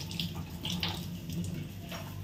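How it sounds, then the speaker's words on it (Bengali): Hands being washed under a running kitchen tap, a continuous splash of water with brief bright spatters as the hands move through the stream, close and unaccompanied by speech. "আমি হাতটা ধুয়ে নিই একটু"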